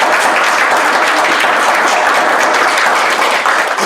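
A church congregation breaks into steady, continuous applause, a dense wash of many hands clapping together at close range, holding evenly loud throughout with no talk over it.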